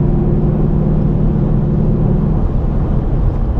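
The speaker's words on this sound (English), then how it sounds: "So I'm like giving like half throttle right now in 6th gear." A 2019 Mustang GT with a Corsa Xtreme cat-back exhaust in quiet mode at half throttle in sixth gear gives a steady, subdued low drone and rumble that holds evenly throughout, heard from inside the car.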